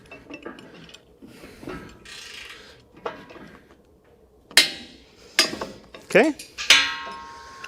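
Ratchet torque wrench set to 85 foot-pounds while installing a double pivot 5th wheel hitch on a flat deck ball mount, several sharp metallic clicks and ratchet ratcheting, close and loud, with a brief spoken word early.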